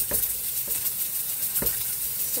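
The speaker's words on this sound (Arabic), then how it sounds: "صافي غادي نخلطها مزيان" Food being stirred and mixed in a bowl for chicken-filled msemen, with soft scraping strokes at a steady rhythm, close and moderately quiet, no talking.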